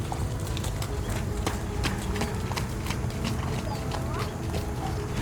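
Horses clip-clopping at a horse stable: a steady stream of sharp hoof strikes on a hard surface, close and continuous for several seconds over a busy background.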